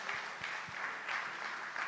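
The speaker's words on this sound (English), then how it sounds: "So big round of applause for made in India products." A round of applause rises from the audience at a business conference held in a resort hall, a fairly faint, steady wash of clapping with nobody speaking.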